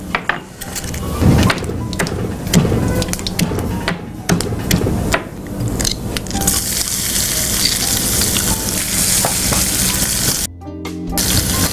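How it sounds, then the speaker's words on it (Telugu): Garlic fries in hot oil in a pan, a loud close sizzle and crackle broken early by knocks and clatter of utensils, then settling into a dense continuous hiss; no voices. "కొంచెం వెల్లుల్లి కూడా వేసేస్తాను ఇప్పుడే"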